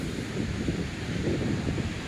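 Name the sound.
ocean waves breaking on beach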